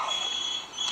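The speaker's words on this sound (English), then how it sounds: "That's my phone, unfortunately." A mobile phone alert sounds in a high, shrill electronic tone, a brief steady beep lasting about a second and heard alone.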